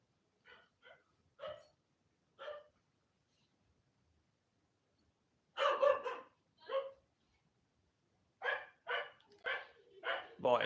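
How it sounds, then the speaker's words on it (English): A dog barks indoors in separate bursts, sometimes singly and sometimes in quick clusters, fairly close and loud, with quiet gaps between the bursts. "why is it in every single live stream my dog starts barking?"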